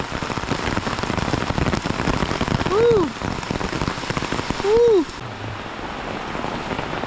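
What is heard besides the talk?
rain falling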